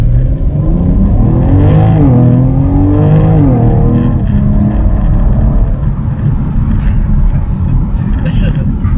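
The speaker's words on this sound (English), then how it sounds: "stop right here and then hit it" A 2022 BMW X3 M Competition performance SUV launches hard from a stop, its engine revving up through rising gear pulls with a loud, close roar inside the cabin, then settling into a steady drone.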